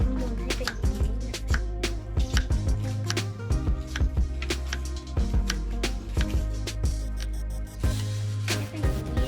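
A knife slices ingredients for kimchi soup on a cutting board with quick irregular chops, sharp and close, in bursts over the whole stretch, with a low steady hum underneath.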